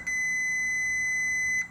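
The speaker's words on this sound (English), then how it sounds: "now we got an alarm that's going to go off when the ground is good." Steady electronic continuity beep from a multimeter confirming a good ground connection on a car sold as a Ford Focus RS, a single sustained tone lasting well over a second, clear and alone.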